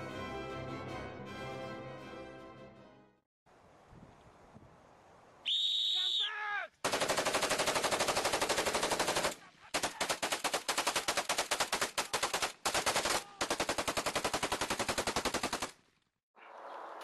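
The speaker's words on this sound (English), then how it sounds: "This is the AK-74 assault rifle." AK-74 assault rifle firing in long automatic bursts, loud and close, broken by short pauses between strings of rapid shots, with no talk over it.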